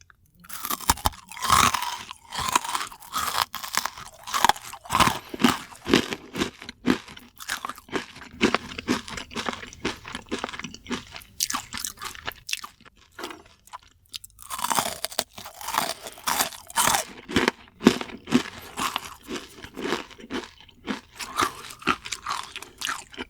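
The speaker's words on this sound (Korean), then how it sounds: "다음은 새우깡튀김 먹어볼게요." Fried Saeukkang shrimp crackers bitten and chewed close to the mic, dense continuous crunching with rapid crisp bites and a brief pause midway, no talking.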